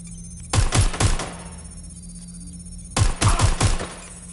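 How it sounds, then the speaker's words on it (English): Two bursts of rapid gunfire from the video game Watch Dogs Legion, each a quick string of three or four loud shots, separated by a quieter stretch of low ambient hum. "I'm hearing gunfire."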